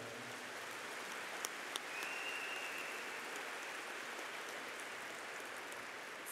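An audience applauds for a Greek singer at a concert, producing steady, dense clapping that carries evenly at moderate loudness throughout, with a couple of sharper claps standing out early on.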